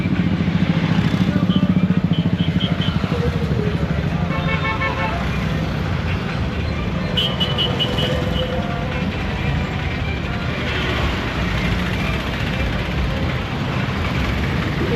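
Goods vehicles and motorbikes in a rally near Mahatma Gandhi Stadium, Tumkur, rumble steadily with repeated horn toots rising over the dense traffic noise, with faint voices mixed in throughout.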